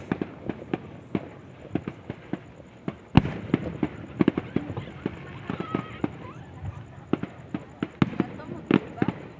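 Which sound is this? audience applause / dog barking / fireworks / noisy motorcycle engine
fireworks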